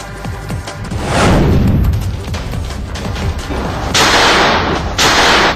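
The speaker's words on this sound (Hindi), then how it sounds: "बीजेपी की महिला पार्षद ने दिवाली के मौके पर दनादन फायरिंग कर सत्ता की धमक" A pistol fired repeatedly during a Diwali celebration, heard as loud, sharp bursts that come close together over a dense, noisy background, with no speech.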